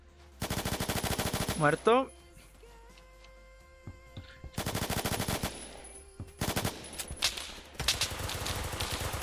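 MP5 submachine gun fire in the Roblox game Phantom Forces, loud rapid bursts separated by short pauses, with a brief spoken word between the volleys.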